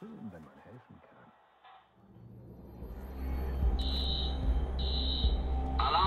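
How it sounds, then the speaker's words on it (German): Alarm going off in the video game Watch Dogs, a repeated high electronic tone in short bursts that enters partway through over low rumbling game noise, with voices briefly present. "Alarm ist ausgelöst."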